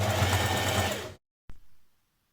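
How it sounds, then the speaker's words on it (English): A sewing machine runs at a steady pace through thick dress fabric for about a second, then stops. After a brief silence, one short mechanical clunk and whir follow. "I'm just going to go steady with this as I sew it, because I don't want a broken needle"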